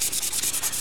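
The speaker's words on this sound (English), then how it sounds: "get rid of any swirls that were created with the lathe action as we were sanding" Abrasive paper rubbing rhythmically against a spinning wooden pen blank on a lathe, a close, steady hiss pulsing in quick even strokes with no voices.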